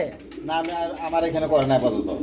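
Pencil pouter pigeons being sold at a market coo in soft, throaty, rolling calls close by, with someone talking over them.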